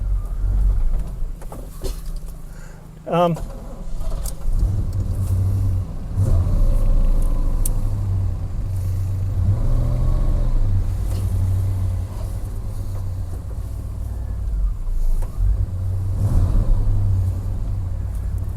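An old car that had sat for two years, running and driving again, with a worn clutch and failed power steering; a steady low engine rumble carries throughout, close and continuous, with a brief bird-like chirp early on and no talk.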